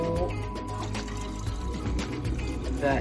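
Sauce pours from a container into a cooking pan with mushrooms and chunky ingredients, a continuous close liquid glugging and splashing under kitchen background noise.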